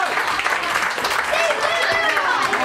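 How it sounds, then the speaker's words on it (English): Audience applause following a card trick at a Communion party, loud dense clapping with voices and whoops mixed through it. "Give Steven a big round of applause"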